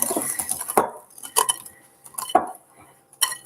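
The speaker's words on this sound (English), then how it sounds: "I'm going to spread it around. Use the whisk." A whisk beating melted coconut oil into a bath bomb mix in a bowl, giving quick scraping, clinking strokes in short uneven bursts with pauses between them, close up.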